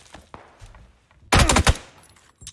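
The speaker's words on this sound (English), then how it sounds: "I'm getting shot in the back." A short, loud burst of rapid automatic gunfire in the video game PUBG, a tight cluster of shots lasting under half a second after a few faint footsteps and a distant pop.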